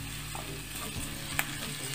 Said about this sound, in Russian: И обжариваю его буквально 5 минут до полупрозрачности.